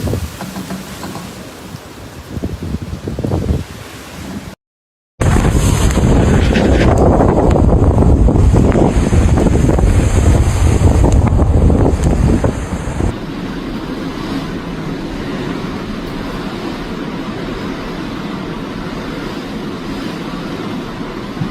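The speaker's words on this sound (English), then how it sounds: "dramatic video footage shows huge waves crashing into the seawall at Midfoot Beach" Strong storm wind roars across the microphone on a Devon seafront, with heavy broadband rumble and surging wave crashes against the seawall at Midfoot Beach, loud and continuous, easing to a steadier blustery wash near the end.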